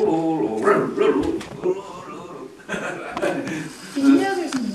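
A Sami joik sung to imitate a joyful puppy, voiced as short playful yips and bark-like bursts mixed with chuckles, heard close and sitting among nearby talk and laughter.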